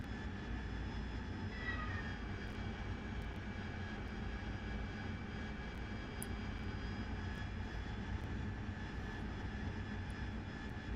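A Harrier jet's engine in a flight simulator game gives a loud, constant roar that holds steady throughout, with no voices.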